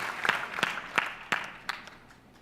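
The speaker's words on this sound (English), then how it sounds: "Or a round of applause, or..." A handful of people at a 2016 financial branding conference give a brief, scattered round of claps, about five distinct slaps spaced evenly and then trailing off, moderately close and fairly quiet.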